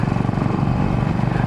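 A Royal Enfield motorcycle engine while riding, a steady, close, low-pitched thumping drone with a fast regular pulse and no break.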